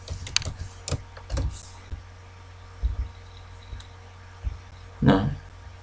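Keystrokes on a computer keyboard while entering a command in R, a few quick clusters of clicks spaced through the stretch followed by a louder burst near the end, with no one talking.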